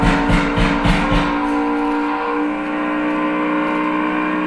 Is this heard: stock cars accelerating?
yes